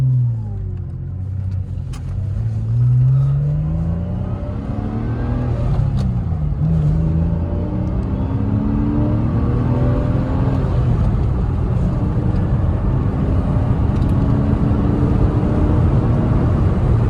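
Porsche Boxster convertible engine accelerating from inside the car, a loud, close rising drone that climbs and steps through gear changes and then holds at a steady roar.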